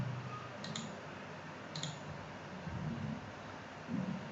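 Two crisp computer mouse clicks come about a second apart near the start of a quiet stretch while steel structure models are set up in design software; nothing else stands out besides faint background hiss and low room noise.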